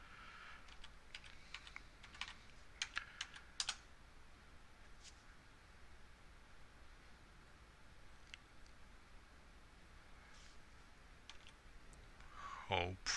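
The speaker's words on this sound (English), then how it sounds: "Okay, I can type the password." A Wi-Fi password is typed on a computer keyboard in quick scattered clicks that come in bursts with pauses, close but fairly quiet over steady background hiss.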